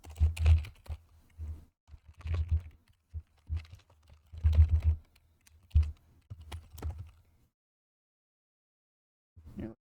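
Bursts of clicky computer keyboard typing come in short clusters, fairly close and moderately loud, separated by pauses and ending in near silence.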